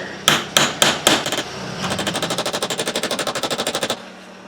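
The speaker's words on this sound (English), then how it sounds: "So, I'm going to try a chisel. Just try to dig into her a little bit." Metal strikes ring out as a chisel is hammered against the ring of a GM 6.5 Detroit diesel engine: a few loud, separate blows, then a fast, even volley of rapid hits that stops abruptly.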